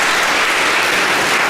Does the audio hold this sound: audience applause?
yes